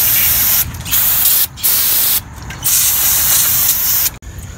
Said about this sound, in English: I'm going to be spraying some brake parts cleaner